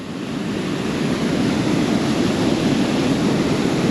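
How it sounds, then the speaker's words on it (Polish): Rushing, churning water roars beneath a bridge in rural France, a steady loud broadband wash that fills the whole stretch without a break. "Nie wiem, czy słyszycie huk w ogóle tej wody."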